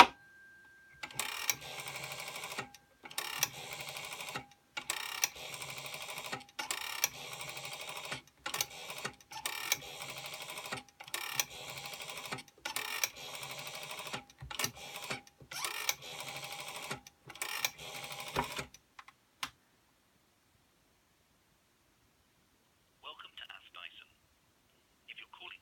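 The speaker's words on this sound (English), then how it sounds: "I'll show you it dialing out" A 1984 brown BT 8746 Yeoman rotary telephone dials out, its dial whirring back with rapid clicking pulse trains in a steady sequence, then a pause and a faint distant tone near the end.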